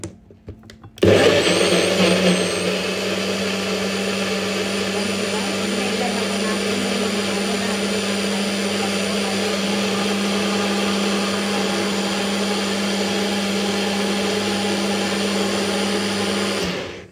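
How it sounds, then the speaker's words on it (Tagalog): A blender whirring steadily as it blends a sugared fruit shake, switching on sharply and running loud and constant with a high motor whine for about sixteen seconds. "Tapos i-blend po natin guys."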